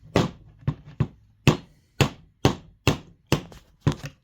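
A jig is driven down an axle for an Antikythera mechanism kit, a series of about ten sharp, close taps or hammer knocks at a fairly even pace, with no talk.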